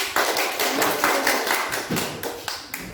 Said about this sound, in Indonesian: terima kasih pembina tepuk tangan